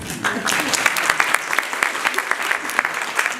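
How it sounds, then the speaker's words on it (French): An audience at a stage show applauds the rhythm teacher with steady, dense clapping that fills the room, close and loud, throughout the moment. "Applaudissez-la, s'il vous plaît."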